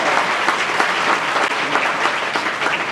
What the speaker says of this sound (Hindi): तालियों से स्वागत होना चाहिए।